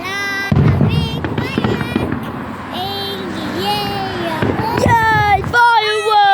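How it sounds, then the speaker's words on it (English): Outdoor fireworks go off as a few loud bangs and crackles, nearby and under excited talk from adults and children. "Oh my gosh. It's fireworks."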